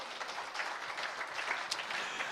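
Congregation applauding during a church sermon, a steady dense patter of many hands clapping, fairly soft and distant, continuing evenly throughout.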